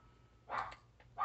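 An indoor dog barks at someone at the door, two or three short sharp barks at moderate distance, heard alone.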